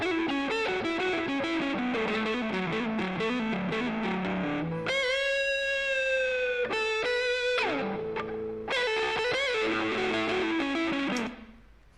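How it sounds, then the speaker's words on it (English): Distorted electric guitar plays a dry riff with no delay effect, moving from low chugging notes into sustained higher lines and back. It stays loud and steady throughout, then cuts off abruptly at the end. "So this is what it sounds like without the delay on."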